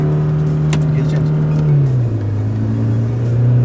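A Toyota Fortuner diesel with stage 1 tuning and a dual-clutch automatic accelerates hard, its loud steady engine drone dropping in pitch as a quick gear change lands midway, close and continuous.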